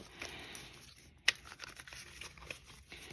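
An oracle card deck is shuffled close by, giving soft papery riffling and crinkling with one sharper snap near the middle, fairly quiet and without talk.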